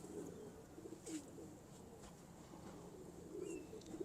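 Teddy Salara pigeons in a loft coo faintly and intermittently in low, soft calls against a quiet background, with a few brief chirps.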